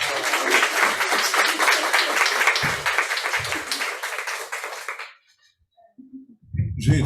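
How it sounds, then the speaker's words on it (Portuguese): Audience applause at a university HR symposium in Brazil, a dense, steady crowd clapping for about five seconds before fading out, followed by a short pause and then a voice beginning to speak. "Professor Dirley Bonfim, palmas."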